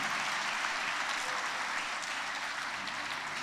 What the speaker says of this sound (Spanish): ¿Alguien le puede dar un aplauso al Rey que vive?